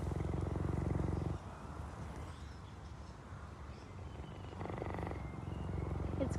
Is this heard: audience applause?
no